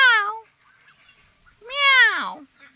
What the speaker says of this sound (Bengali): এই যে আমার বিড়াল চলে এসছে আমাদের কাছে।